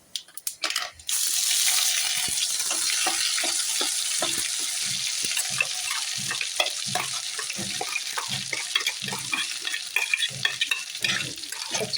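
Onion-coconut masala ground fine, frying in a pan with mustard seeds and cumin: a steady close sizzle with a busy, irregular scraping and clicking of stirring throughout, after a brief quieter start.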